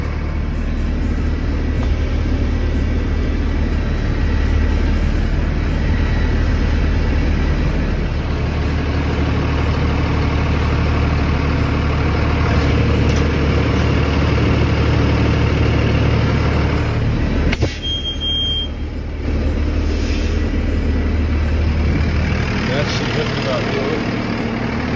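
A truck's engine idles steadily at a grocery store loading ramp as the rig inches forward, a continuous low rumble with a brief dip partway through, and no talk over it.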